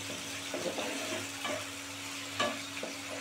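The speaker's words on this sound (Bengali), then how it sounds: "এবার এইটা ভালো করে ফুটিয়ে নেব, তারপরে ধোকলার উপর দিয়ে দেবো।" A pan of dhokla tempering bubbles and sizzles softly and steadily, with a few faint stirring taps and small pops.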